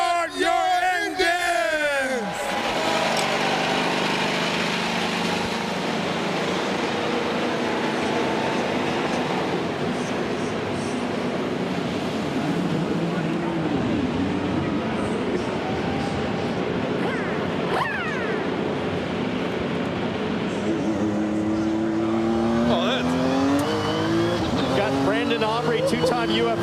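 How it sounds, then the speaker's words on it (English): IndyCar race engines start and rev at the Grand Prix of Arlington, roaring and droning continuously for a long stretch, with rising whines near the start and end, while voices talk over the noise. "Drivers, start your engines!"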